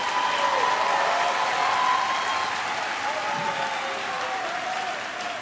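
Sustained applause from a high school graduation audience for a row of graduating students, a dense steady wash of clapping that holds strong and then thins slightly toward the end.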